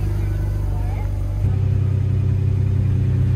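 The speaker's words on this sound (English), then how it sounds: "I'm actually gonna race this Beamer right here. It's 335." An Infiniti G35 accelerates hard while racing a full-bolt-ons BMW 335i, its engine droning at steady revs before a sudden louder, deeper surge of rumbling power from inside the car.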